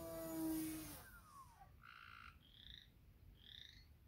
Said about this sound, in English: The frogs agree with you.